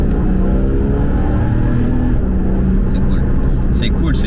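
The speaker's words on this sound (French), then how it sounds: "allons entendre cette voiture, et on va accélérer pour bien l'entendre" A Porsche engine with an aftermarket SCART exhaust revs and pulls hard accelerating in second gear, a loud steady rumble that climbs in pitch, with faint speech in the background.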